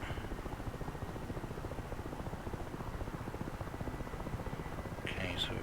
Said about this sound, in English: So slowly pushing the throttle up.